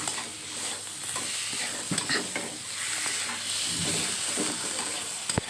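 Steady sizzling and scraping as onion and salt are sautéed in a pan for an egg and potato curry, with stirring strokes clattering irregularly throughout at close range.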